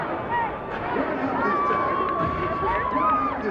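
Crowd noise in a gym at a high school boys' state tournament basketball game, a steady babble of cheering and voices with a whistle-like tone rising above the din.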